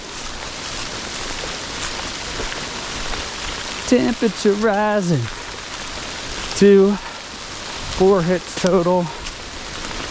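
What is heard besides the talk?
rain falling outside truck camp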